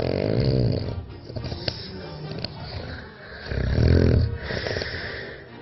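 A sleeping person snores in loud, rough, rumbling breaths that swell and fade in a slow rhythm, close and dominant, with a voice faintly present.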